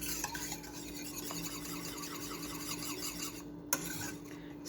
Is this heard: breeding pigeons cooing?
no